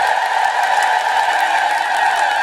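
Church congregation ululating in a steady, sustained high trill, loud and continuous throughout, with faint clapping mixed underneath and no clear talking.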